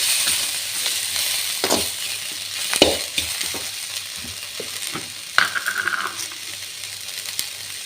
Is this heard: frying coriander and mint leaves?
yes